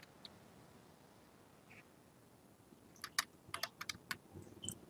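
A computer keyboard is typed on while an online form is filled in. It stays quiet and near, with a few isolated taps at first, then a quick cluster of keystrokes in the last two seconds.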